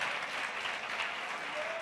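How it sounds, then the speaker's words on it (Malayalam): A congregation at a Pentecostal Christian sermon breaks into sustained clapping, a dense, even wash of many hands that fills the whole short stretch without a break. "നല്ല ശക്തിയോടൊന്ന് കൈയടിച്ച്"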